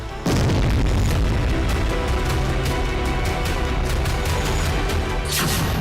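A loud, sustained roar of an explosion on the Kerch Bridge linking Crimea to Russia, with dense crackling and rumbling debris, continuous for several seconds and ending with a sharp hiss.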